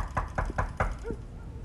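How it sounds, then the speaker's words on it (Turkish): Four sharp knocks on a door in quick, even succession, close and loud, followed by a brief pause and a short tonal sound, in a domestic drama scene. "Cemil kapı çalıyor."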